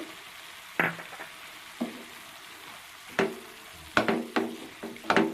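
Drumstick leaves stir-fried with spice powder in a pan, a low background sizzle broken by distinct scraping and tapping strokes of a spatula, spaced out at first and bunching together toward the end.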